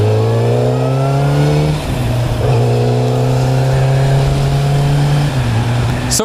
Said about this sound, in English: This thing revs so easily and revs so well